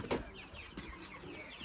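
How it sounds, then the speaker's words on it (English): Village chickens clucking, with quick overlapping short clucks and chirps running through the brief moment, close by and moderate in level. "so these are the chickens."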